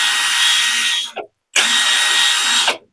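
A Jpt 21V brushless cordless impact wrench spins freely at low RPM in two bursts, each a steady whirring whine lasting about a second, separated by a short silence and ending with a quick wind-down.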